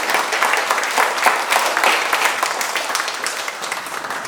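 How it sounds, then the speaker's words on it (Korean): A warm round of applause at a book launch event as a guest is introduced, many hands clapping steadily and fairly close, fading slightly toward the end with no voices over it. "뜨거운 박수로 환영합니다."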